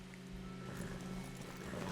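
Hooves of a horse in the game Red Dead Redemption 2 clop faintly in a steady rhythm as it is led to stand behind a tree, soft and distant over a low ambient hum.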